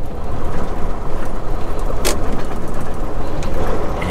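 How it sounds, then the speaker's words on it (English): A truck rolls slowly past a weigh scale at a truck stop, its engine a steady close rumble with a faint rattle, running alone without talk. "I'm gonna slowly drive past,"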